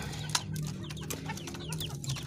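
A green junglefowl hen about four months old clucks softly and repeatedly at close range, with a brief sharper note early on and other bird chirps scattered over a steady background hum.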